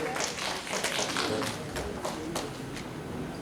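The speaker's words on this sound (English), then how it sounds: "I want you guys to have a huge round of applause for her" A university audience at a World Poetry Day event claps for a poet, with dense, continuous applause at moderate distance filling the whole stretch.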